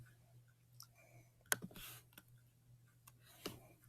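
A computer mouse clicking, one sharp close click followed by a few faint ticks and another soft click later, in an otherwise quiet room.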